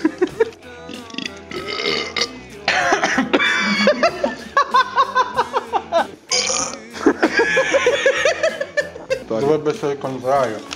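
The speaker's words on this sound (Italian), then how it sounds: "Fammi un rutto" A person backstage lets out a burp amid loud, close chatter, laughter and giggling from several people, all crowded together in a short, noisy stretch.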